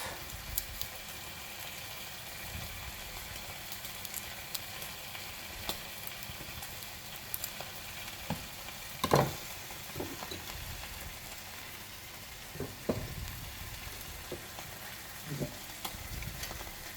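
Meat paupiettes browning in a hot pan give a steady, close sizzle with a few brief louder pops and spatters throughout, no talking.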